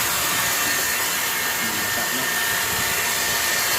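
A leaking water pump motor running with water spraying out, a loud, constant broadband whir and hiss that stays steady from start to finish.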